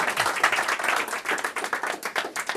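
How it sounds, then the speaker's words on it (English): Audience at an evening talk on digestive health gives a round of applause, steady dense clapping throughout with no one speaking over it. "So everybody give her a round of applause."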